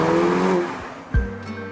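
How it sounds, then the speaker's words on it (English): Ferrari California T with the roof down, its engine and exhaust giving a steady loud drone that drops away, then a sharp burst and a rising note near the end. "A little bit of magic has gone on in the exhaust manifolds to make it sound like a proper Ferrari."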